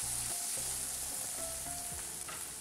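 Tomatoes drop into a hot frying pan and sizzle, a steady soft crackle of frying with light stirring clinks throughout, close but fairly quiet.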